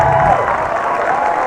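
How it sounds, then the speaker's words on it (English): Sekolah Sultan Alam Shah schoolboys applauding and cheering from the cheering stand as the home rugby team marches onto the field, a broad crowd wash of clapping, fairly loud and continuous. "being applauded by the SAS Sekolah Sultan Alam Shah boys from the cheering stand"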